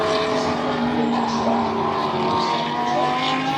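GT race cars lapping the Silverstone circuit during a race, a steady loud engine drone with layered harmonic tones holding throughout, heard from the trackside with no pauses or speech.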